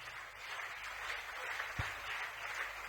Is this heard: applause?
yes